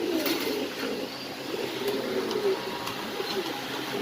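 Fancy pigeons cooing inside a loft, with soft, continuous low cooing across the whole stretch and faint background noise.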